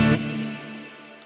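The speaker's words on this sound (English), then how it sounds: "that reverb sound is going to be very bright" Strymon BigSky reverb pedal on electric guitar with the tone knob turned all the way down for a dull setting; two strummed chords, each with a sharp attack and a softer, darker reverb tail lingering between them.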